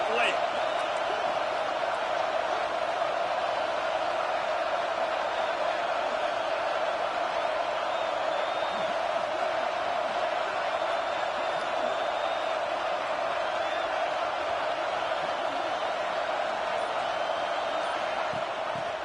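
Steady, dense stadium crowd roar fills a college football video game, a constant wash of cheering with occasional whoops under play-by-play commentary.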